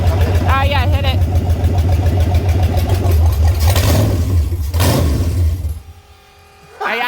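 An old engine that had sat for five years runs loudly with a low, rough rumble and revs up and down before cutting off near the end, while people talk over it.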